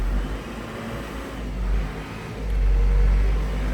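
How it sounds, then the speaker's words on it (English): Engine of a 1998 Case 580SL II 4x4 backhoe revving up, a steady low rumble that swells louder and heavier toward the end, close by with no talk. "Revs up as it's supposed to."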